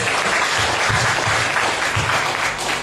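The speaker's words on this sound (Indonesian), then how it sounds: "Berikan dulu tepuk tangan bagi Tuhan Yesus." Sustained applause fills a church seminar hall in Timor-Leste, a broad, even wash of many hands clapping without pause.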